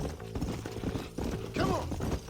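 Horse hooves clip-clop steadily through the whole stretch in the Red Dead Redemption video game, mixed with a low background score and a brief whinny-like tone near the end.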